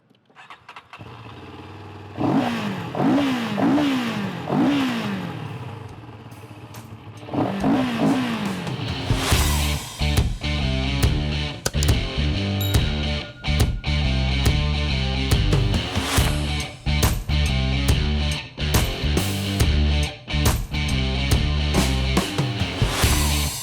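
A CFMOTO 700 CL-X Sport motorcycle engine cranking and catching, then idling with a few blips before breaking into loud, repeated revs with sharp throttle stabs, close and alone.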